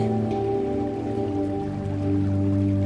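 Steady rain shower falling, a continuous dense patter with soft drips, even and enveloping with no voices.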